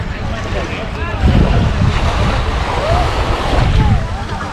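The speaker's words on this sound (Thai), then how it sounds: "บรรยากาศหาดหวนเนาะ" Waves wash on the beach at Koh Larn near Pattaya, a continuous surging roar mixed with strong wind buffeting the microphone, while someone speaks over it.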